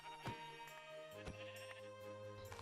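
Sheep bleating in the Minecraft video game, a couple of wavering blocky bleats that stand out clearly over a steady in-game background hum, with no talking.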